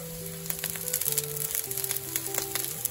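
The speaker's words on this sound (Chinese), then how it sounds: "加入切好的蒜末，持续翻炒到香气出现， 接着加入辣椒" Minced garlic and chili stir-fry in a hot wok with a dense, continuous sizzle, close and steady, flecked with soft scraping clicks from the spatula, while faint steady tones from background music hum beneath.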